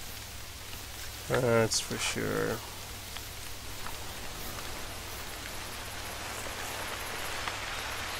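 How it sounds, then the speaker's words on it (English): Steady rain falls in the hunting game The Hunter: Call of the Wild, a soft even hiss of drops running through the whole scene while someone speaks briefly early on. "Some rain, that's nice"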